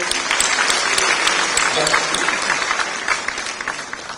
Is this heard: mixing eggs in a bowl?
no